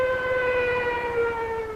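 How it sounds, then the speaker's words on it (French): A steam siren wails in a single steady, loud, sustained tone with strong harmonics and a slight downward slide in pitch, heard alone without voices. "j'ai fait mettre une chaîne à la sirène à vapeur en cas de panne de la sirène électrique."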